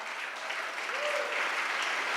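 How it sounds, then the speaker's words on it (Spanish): A church congregation claps together in a steady, dense wash of applause that holds at moderate level throughout, with a faint voice briefly audible underneath. "Un aplauso fuerte al Señor por esto."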